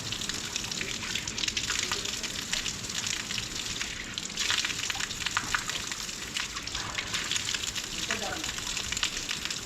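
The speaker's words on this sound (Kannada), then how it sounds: "ಬಟ್ ಯಾವಾಗೂ ನೀರು ಬರ್ತಾನೆ ಇರುತ್ತೆ ಇಲ್ಲಿ." Water from a forest stream near Gokarna, running low in the dry season, rushes in a steady broadband wash close by, continuous and fairly loud throughout.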